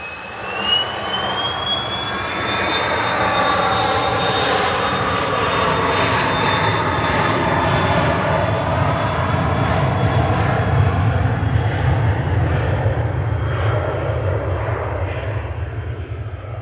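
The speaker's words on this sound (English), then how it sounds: "VistaJet, flight 659 to Amsterdam, Cessna citation, 9HXOB. Here it goes." A VistaJet Cessna Citation business jet, registration 9H-XOB, bound for Amsterdam, roars down the runway on takeoff with a rising turbine whine climbing in pitch, loud and sustained with no talk.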